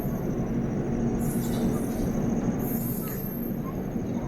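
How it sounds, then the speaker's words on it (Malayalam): A MEMU electric multiple-unit train pulls into Tekal station at night, its steady low rumble and rolling wheel noise filling the scene, with a faint high electric whine rising and falling over the approach. "തേക്കാലിലേക്ക് ഒരു മെമു കയറി വരുന്നുണ്ട്"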